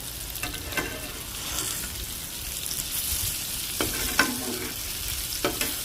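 Eggplant pieces sizzle steadily in hot oil, with a continuous bright frying hiss and occasional scraping stirs of a spoon through the pan.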